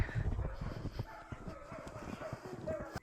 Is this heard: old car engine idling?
no